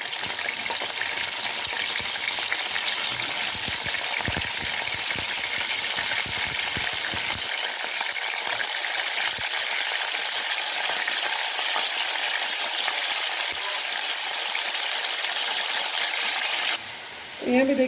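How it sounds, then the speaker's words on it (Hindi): Chicken frying with golden onions in a pot, a loud, dense sizzle and crackle that continues throughout and grows slightly quieter partway through, with stirring, close up. "इस चिकन को मैं अच्छे से भूनना है हमें तकरीबन 10 से 15 मिनट के लिए"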